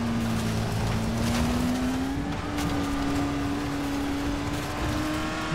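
A car in the zombie game Dying Light The Following drives steadily with a continuous engine drone that holds a constant pitch and rises slightly midway, with rumbling road noise underneath and no talking.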